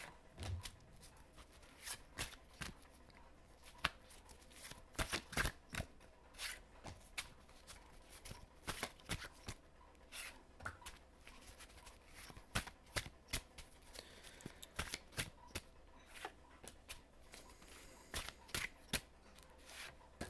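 Tarot cards being shuffled by hand, a steady run of crisp riffling and flicking card sounds lasting throughout, close and fairly quiet with no talking.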